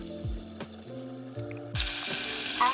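Onion goes into melted butter in a small pot and starts sizzling, a soft hiss that swells abruptly after a low background hum with faint knocks.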